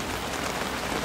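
Heavy rain pours steadily onto a surface during a strong afternoon storm with gusting wind, a dense continuous hiss that stays loud and even throughout.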